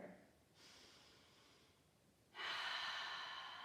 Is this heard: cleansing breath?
yes